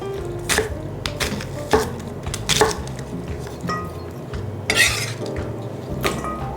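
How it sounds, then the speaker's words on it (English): A knife slices an onion in half on a cutting board while cauliflower soup is being prepared, giving a few sharp, close knocks and thuds spread over several seconds with soft kitchen clatter between them. "I am going to cut half of the onion."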